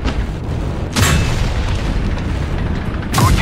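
Tank cannon fire hitting an enemy in the Tank Company video game, from a Jagdpanzer E 100 tank destroyer: two loud, deep booms about two seconds apart over a constant engine and battle rumble.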